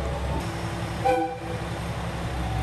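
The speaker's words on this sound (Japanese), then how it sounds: "1分と経たないうちに草津線の列車がやってきました" An electric train on the Kusatsu Line pulls into Tsuge station in the evening, a steady loud rumble of running gear with a brief horn-like tonal blast midway, no voices.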